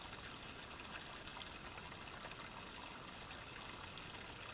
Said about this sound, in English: we have to filter it through our Sawyer water filter